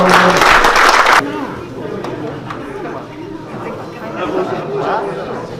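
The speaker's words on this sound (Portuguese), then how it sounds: "uma salva de palmas" Audience at an anniversary celebration gives a loud, dense burst of applause for just over a second, then it cuts to murmuring chatter and voices.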